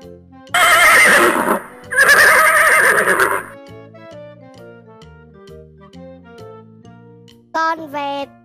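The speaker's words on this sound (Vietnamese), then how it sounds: "Con ngựa." Horse neighing: two loud, long whinnies back to back, followed by a light melodic music-like jingle and a short high neigh near the end, all clear and close.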